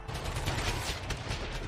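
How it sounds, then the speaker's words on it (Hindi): Gunfire in a Hindi audio drama, a dense rapid volley of shots and rattling bursts, fairly faint and continuous, with no speech over it. "नकुल पर गोलियां बरसना शुरू हो गईं।"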